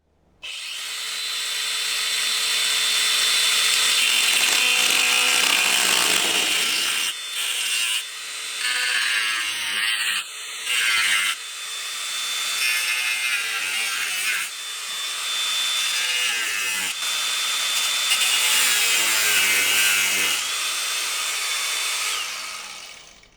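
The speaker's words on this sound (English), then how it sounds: "I'm going to go right ahead and start cutting my shape out with this cutting disc." An angle grinder with a cutting disc slices through rusted underbody sheet metal on a BMW E30, a loud, sustained high-pitched screech broken by a few brief stops and restarts.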